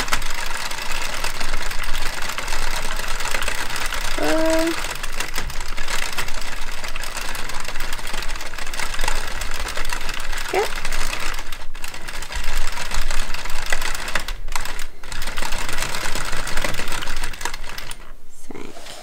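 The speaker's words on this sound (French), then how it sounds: "Et je vais continuer de tourner la machine." A hand-cranked knitting machine knitting rounds of yarn makes a continuous, close mechanical clatter of rapid rattling ticks that runs unbroken throughout.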